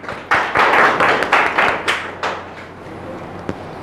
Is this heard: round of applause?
yes